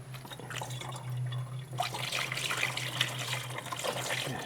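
Red Toyota coolant, pre-diluted, pours into a Toyota Highlander with a steady liquid trickle and splash against a constant low hum, growing brighter and fuller partway through.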